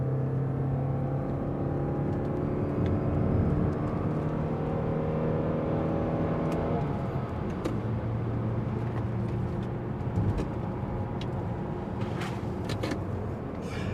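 A Lexus CT200H with a 1.8 engine accelerates in sport mode, its engine droning loudly and steadily from inside the car, then easing in pitch partway through, with a few faint clicks and taps.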